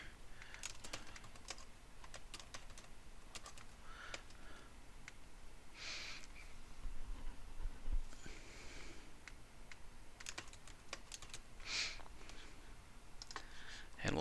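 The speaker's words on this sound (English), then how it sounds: "I'm going to type in some list items here." Fingers tap a computer keyboard at close range in uneven bursts of light clicks, with brief pauses and faint breathing or sniffs in a quiet room.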